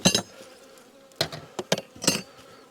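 Bees buzzing at an orange hive during a weak spring inspection, heard as several short loud close bursts with quieter buzzing between them.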